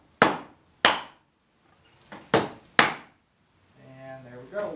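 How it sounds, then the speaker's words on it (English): Dead blow hammer striking the side of an undercarriage part during assembly, four sharp, close whacks in two pairs, followed by a faint rising hum at the end. "I'm going to take the dead blow since I'm hitting the side"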